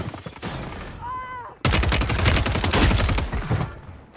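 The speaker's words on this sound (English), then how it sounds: "Those shots should have hit, bro." Gunfire in Call of Duty Warzone on Rebirth Island erupts as a loud, rapid burst of shots after a brief quieter moment with a short tone, the volley continuing close and dense to the end.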